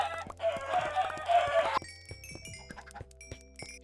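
Chickens cluck in Minecraft, a burst of dense clucking and squawks followed by scattered short clucks and game sound effects, fairly close, with no voices.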